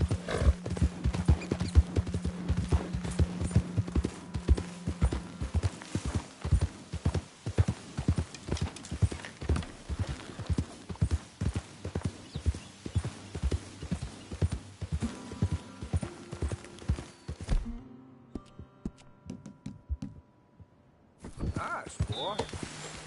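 Horse hooves clip-clop at a steady trotting rhythm in the Red Dead Redemption 2 video game, close and prominent with a brief whinny, then slow and pause before resuming, with a voice speaking at times.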